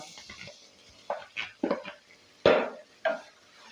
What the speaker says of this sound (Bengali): এইবার এই গাজরটাকে একটু ভালো করে ভেজে নিতে হবে